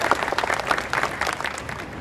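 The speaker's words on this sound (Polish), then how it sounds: "Prosimy o brawa." An audience applauds at the opening of a contemporary art museum in Wrocław, with steady, dense clapping filling the hall from start to finish and no talk over it.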